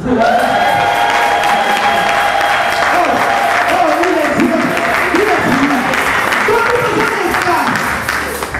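A church congregation bursts into loud, sustained applause mixed with cheering and shouts, a dense wall of clapping filling the room with voices calling out through it.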